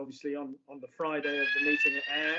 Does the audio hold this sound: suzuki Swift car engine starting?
no